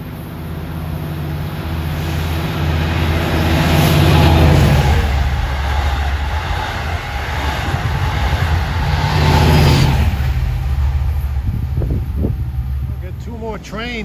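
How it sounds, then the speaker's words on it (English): A Long Island Rail Road commuter train bound from Penn Station to Oyster Bay passes on a triple-track line at twilight, a broad rumbling roar that swells and lingers for several seconds with a voice talking over it. "Here comes 566, Penn Station to Oyster Bay on number 1."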